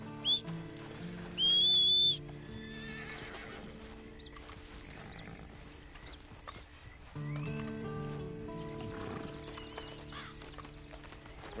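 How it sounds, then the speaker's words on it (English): Horse in Red Dead Redemption 2 Online: a loud whinny near the start, then soft hoof steps and snorting under a sustained musical score, with sparse birdsong and a short whistle. "Then you better get on this horse."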